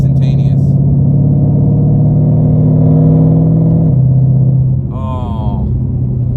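Ford Shelby GT500 V8 rumbling loudly from inside the car in manual mode, a deep steady drone that drops in pitch partway through, with brief talk at the start and a short voice near the end.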